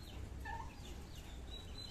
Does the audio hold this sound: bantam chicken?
yes